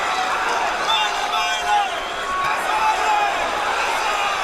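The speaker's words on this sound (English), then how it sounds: "Crowd is very excited here." An excited arena crowd roars at a boxing fight in Atlantic City, Sergey Kovalev against Eleider Alvarez, a loud continuous wash of cheering and shouting that rises and swells, with ringside commentary talking over it.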